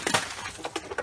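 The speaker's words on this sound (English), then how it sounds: "and all the ice just fell off" Ice breaks loose and drops off a Jeep Patriot's raised hood during a snowy day, a brief close clatter of several crisp, glassy chinks and cracks.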